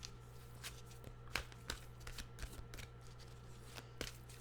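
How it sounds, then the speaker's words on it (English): Well-being cards from Esther and Jerry Hicks' Teachings of Abraham deck being shuffled by hand: a quiet run of soft riffling flicks and slaps over a steady low hum, with no talking. "let's get our well-being cards out here by Esther and Jerry Hicks"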